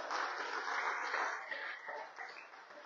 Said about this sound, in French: Acclamons sa présence.